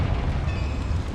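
The Confringo fire spell exploding in the video game Hogwarts Legacy, a loud, sustained rumbling blast with a heavy low-end roar lasting about a second.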